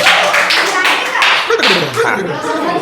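An audience claps for a singer stepping onto the stage at a comedy singing contest, a dense burst of applause filling the moment with a voice briefly mixed in.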